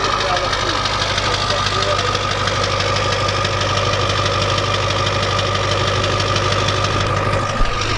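A Ford 7.3 liter Power Stroke diesel truck engine idles with a loud, steady clattering rumble close by, continuous throughout with a brief knock near the end.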